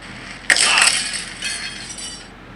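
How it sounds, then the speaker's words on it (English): Glass shatters loudly in the Happy Wheels video game, a sharp crash followed by a brief tinkling scatter of shards and a second fainter break, with no talking. "Crash through the glass, crash through the glass."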